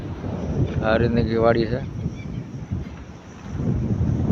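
Strong wind gusting across a farm field, a loud rumbling buffet on the microphone that surges and eases, with someone speaking over it partway through.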